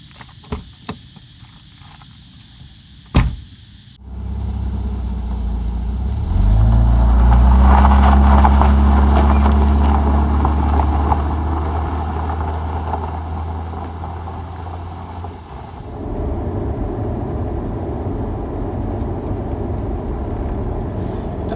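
Mercedes-Benz 280 TE estate, S123/W123 model with manual gearbox, on a road test drive: a few knocks, then the engine starts and revs up into a strong rising drone before settling into a steadier cruising hum with road and wind noise.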